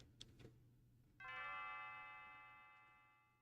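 Mysterious bell ringing in a video game: after a couple of soft taps, a single clear chime strikes and rings out, slowly fading over a quiet background.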